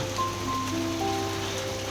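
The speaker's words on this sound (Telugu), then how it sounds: "వర్షం అయితే పడుతుంది వీళ్ళకి వెళ్ళేటప్పుడు జల్లు పడుతుంది" Light rain, a drizzle, falling outdoors as a steady, even hiss with faint tonal hum in the background and no voices.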